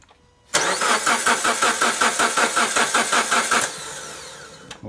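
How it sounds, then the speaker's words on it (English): A car engine cranks with a rapid, even rhythm of starter pulses for about three seconds, then catches and settles into a steady idle, loud and close with no talk. "Go ahead, crank it, Lisa."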